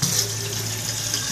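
Water from a tap runs into a kitchen sink in a steady, close, continuous gush with no pauses.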